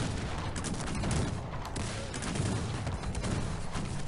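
Musket and cannon volleys boom from a battle in the strategy game Cossacks 3, a dense, continuous barrage of overlapping gunfire filling the whole stretch at steady loudness.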